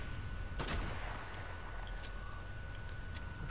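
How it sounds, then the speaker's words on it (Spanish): Sniper rifle shots in a shooter video game, three sharp, fairly distant cracks spaced over a few seconds above a steady background hum. "Escucho un rifle de francotirador por la derecha también"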